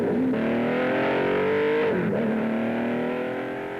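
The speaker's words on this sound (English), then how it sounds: "We too can share a lap of the circuit with some of the world's fastest cars." A 1960s sports-prototype race car screams past at Brands Hatch in 1967, its high engine note rising and falling through gear changes as it sweeps by loud and close, dropping in pitch near the end.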